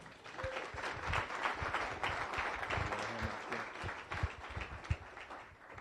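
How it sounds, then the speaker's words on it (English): An audience at a Rotary Club meeting in Las Vegas applauds steadily for several seconds, dense clapping from many hands in a room, moderately loud with a faint voice or two underneath. "Big round of applause, please."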